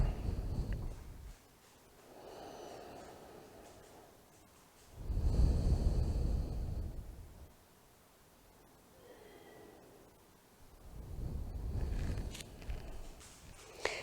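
Slow, deep yoga breaths rise and fall in long waves, each drawn-in inhale and released exhale heard close and soft, separated by quiet pauses, with no talking.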